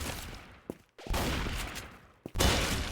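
Gunfire in the Roblox video game comes as dense, loud bursts of rapid shots, broken by two short pauses, filling the whole stretch with no voices.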